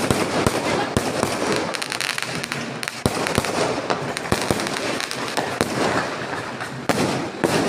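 Diwali firecracker rockets go off in quick succession, with sharp cracks and pops over a constant crackling hiss, some bangs close and loud, and voices faintly present underneath.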